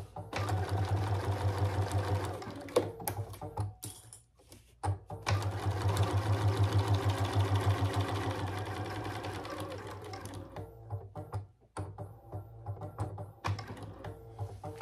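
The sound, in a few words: sewing machine stitching clear vinyl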